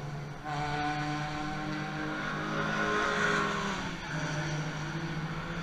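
A Corvette sports car races by on a track, its engine a loud steady roar with a rising then falling pitch as it passes close, heard alone without voices.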